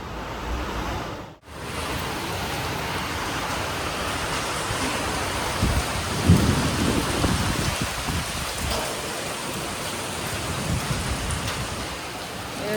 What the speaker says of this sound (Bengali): বিকালবেলায় প্রচণ্ড পরিমাণে ঝড় উঠেছে, বৃষ্টি হচ্ছে